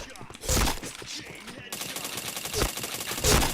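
Gunfire in a shooter video game: bursts of rapid, crackling shots, loud and close, in clusters with brief gaps between them.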